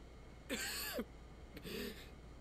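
Two rough, raspy coughs from a character in a fantasy role-playing video game, each about half a second long, heard close and clear with a short pause between them.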